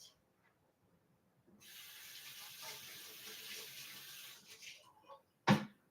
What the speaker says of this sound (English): rinse off the cutting board.